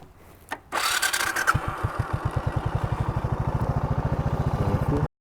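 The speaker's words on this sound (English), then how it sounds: "turn on the bike" A motorcycle engine is started: a short whirring crank, then it fires and settles into a loud, close, rapid rhythmic idle chug that continues steadily until cut off.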